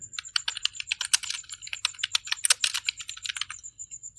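Fast, light typing on a computer keyboard, entering text into an Excel spreadsheet. The crisp key clicks run steadily for several seconds with small irregular gaps, close by and fairly soft, with no talking.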